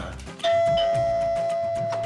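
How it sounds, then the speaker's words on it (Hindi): A house doorbell rings at the front door, one bright chime striking suddenly and ringing on with a sustained tone over background music, with no voices in between. "घरों के दरवाजे पे घंटियाँ नहीं मारता है"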